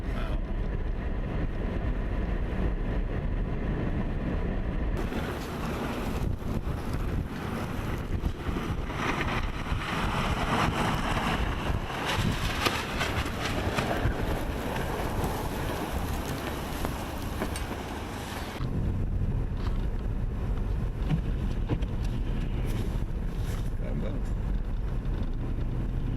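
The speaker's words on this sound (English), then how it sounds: "Wind's picking up too." Strong wind roars during a blizzard on the I-84 highway just west of Danbury, a steady loud rushing that swells heavier for several seconds in the middle before easing back to a constant blustery drone.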